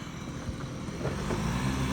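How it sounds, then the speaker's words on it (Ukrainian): A Honda Dio AF-34 carburetted scooter engine idles after warming up, a steady close droning hum with a faint whistle running through it and no pauses, with no talk. "він довго стояв але все одно трошечки свистить, але оберти вже впали"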